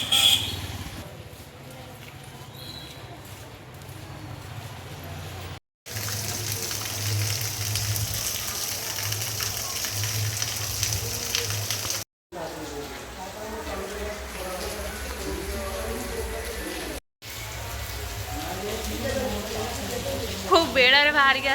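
Heavy rain keeps up a dense hiss across several cut segments, with a vehicle-like rumble and voices talking under it.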